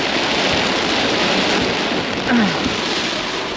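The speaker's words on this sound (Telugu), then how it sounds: "ఇక్కడైతే వానలు స్టార్ట్ అయిపోయాయి" Heavy rain pouring on a highway in China, a dense steady hiss of downpour throughout, loud and close, with a brief faint tone near the end and no talking.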